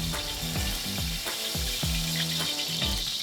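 Meat sizzles steadily in hot oil, a loud, continuous frying hiss with a few soft clinks and scrapes from the pan.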